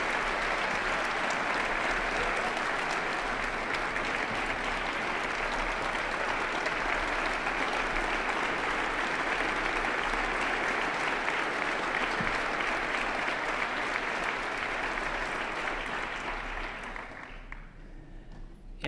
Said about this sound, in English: let's give this cavalry a round of applause.